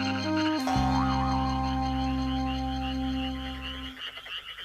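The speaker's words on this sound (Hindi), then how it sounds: "ये तो मेंढक की आवाज थी।" A frog croaking in a Hindi-dubbed Ninja Hattori cartoon, a loud, sustained, buzzing tonal croak holding steady for several seconds before cutting off, with no talking.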